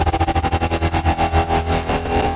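A distorted synth in an Ableton project with an autopan wobble effect, pulsing in a fast, loud, even rhythmic throb that blurs into a denser churning tone toward the end.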